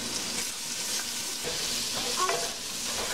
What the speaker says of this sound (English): now that we got our butter almost all melted and the garlic starting to brown